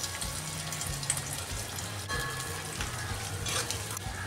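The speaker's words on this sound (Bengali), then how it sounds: "ওটাতে দিয়ে দেবো পেঁয়াজ কুচি" Chopped onions fry in a kadai of oil and ghee for prawn biryani, a steady, fairly quiet hiss and bubbling sizzle with soft stirring scrapes, no voices.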